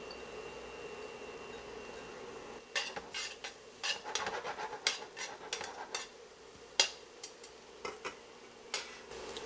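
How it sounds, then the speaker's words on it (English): Shallots cooking in a tablespoon of butter in a pan, a soft sizzle under scattered clinks and scrapes of a utensil stirring against the pan, fairly quiet and close. "I got a tablespoon of butter. Put our shallots in."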